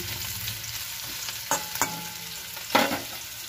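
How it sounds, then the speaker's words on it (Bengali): Bitter gourd fries in a pan with turmeric and salt under a continuous sizzle, broken by a few sharp scrapes as it is stirred. "এর মধ্যে সামান্য হলুদ দিয়েছি আর সামান্য লবণ দিয়েছি দিয়ে আমি এবার এটা একটু ভাজা ভাজা করব"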